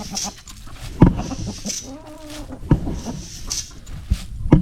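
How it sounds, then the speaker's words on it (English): Chickens cluck and call around a farmyard with scattered soft bursts and one drawn-out wavering call in the middle, mixed with thumps and background noise. "Here you go, chickens."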